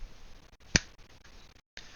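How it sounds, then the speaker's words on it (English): A single sharp finger snap rings out close and crisp against a quiet, faintly noisy background. "So I'll snap my fingers"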